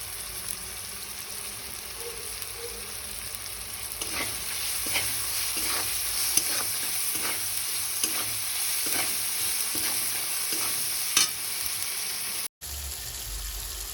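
Small chopped onions fry for toor dal with a continuous hiss of sizzling oil, joined midway by a run of rhythmic stirring scrapes, close up, ending in a brief cut.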